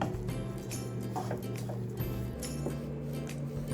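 Jaggery syrup being stirred into flattened rice and coconut in a pan, a soft, wet, sticky churning and sloshing that continues steadily up close.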